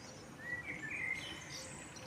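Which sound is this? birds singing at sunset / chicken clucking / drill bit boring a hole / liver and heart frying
birds singing at sunset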